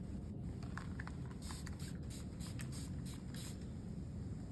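A spray bottle mists a client's hair during a long layered haircut, several quick fine squirts in an uneven run, close but fairly soft over steady room noise, with no talking.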